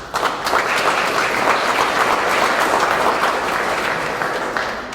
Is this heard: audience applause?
yes